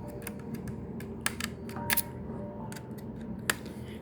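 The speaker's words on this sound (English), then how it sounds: "It's recommended to screw it first diagonally." A small screwdriver drives screws into a laptop part during reassembly, giving sparse, light clicks and ticks over a steady low room hum, close and with no talk.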